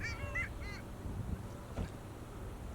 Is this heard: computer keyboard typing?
no